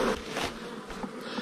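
A dense crowd of honey bees hums inside a packed hive at peak population, a close, continuous low buzz lasting barely a second and a half with no talking.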